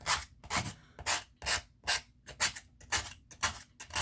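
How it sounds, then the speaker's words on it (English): Rhythmic rasping strokes of a nail file across a surface, about eight even back-and-forth passes, close and distinct with short pauses between. "you're going to want to use a nail file"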